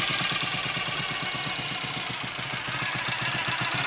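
A BSA A65 Lightning Clubman motorcycle engine with a 2-into-1 exhaust ticks over unevenly, a steady close, loud idle with a rhythmic pulsing beat.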